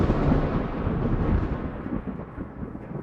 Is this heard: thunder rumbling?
yes